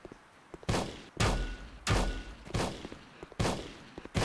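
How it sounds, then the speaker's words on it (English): An automated turret fires in the video game Volcanoids, sending out about six loud, sharp booming shots at uneven intervals, each one trailing off into a short decay. "Oh, that's the turret shooting."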